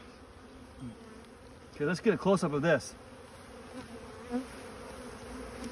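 Four pounds of wild-caught honey bees buzz in a low, continuous hum close by. A person speaks briefly over the buzzing partway through.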